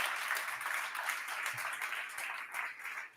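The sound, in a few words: audience applause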